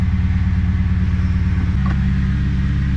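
A manual Holden SS Commodore V8 rumbles close by, its deep engine note throbbing evenly and shifting pitch slightly partway through.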